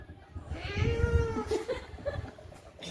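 A human voice imitates an angry cat, producing a drawn-out, wavering yowl with hissy, strained edges, loud and close, followed by a couple of shorter growling bursts.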